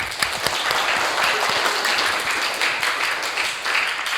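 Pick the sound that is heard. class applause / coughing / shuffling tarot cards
class applause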